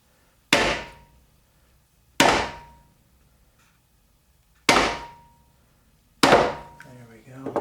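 Four sharp metallic hammer blows, spaced a second or two apart, drive a bearing by its outer race into an MGA/MGB three-synchro gearbox case; each strike rings briefly and decays. Faint mechanical clatter follows the last hit.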